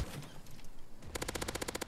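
In LEGO Fortnite, a cannon built from a barrel of dynamite fires a rapid burst of about a dozen loud, evenly spaced blasts after a short stretch of rumbling game noise.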